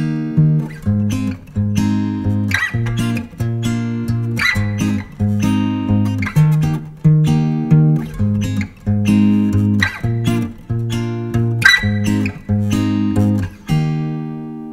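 Acoustic guitar plucked in a repeating fingerpicking pattern over a song's chords, bass notes from the thumb under higher chord notes, steady and close with no talking.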